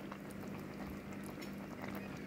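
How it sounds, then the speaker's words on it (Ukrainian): Plov cooking with garlic bubbles steadily in the pot, a dense continuous simmering crackle and pop heard close up, with no talking. "і той чесничок булькає"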